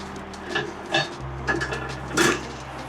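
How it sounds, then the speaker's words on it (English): A metal grill grate is set back into a Big Green Egg ceramic cooker, giving several clanking, scraping knocks spaced across a few seconds, with the last one the loudest, over a low steady hum. "So let's throw our grate back in."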